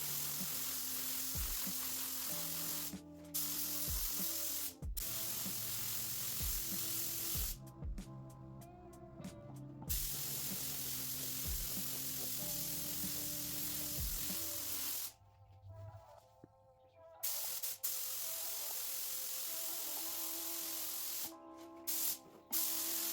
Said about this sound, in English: We'll go ahead and spray.